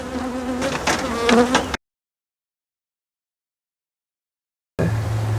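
Honey bees buzz around an open beehive of frames at a lychee farm, a dense, steady insect drone close to the microphone, broken by a stretch of silence before the buzzing returns.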